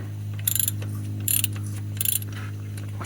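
Socket wrench ratcheting during belt tensioner replacement on a 2005–2010 Honda Odyssey, three short bursts of rapid clicks over a constant low engine-bay hum.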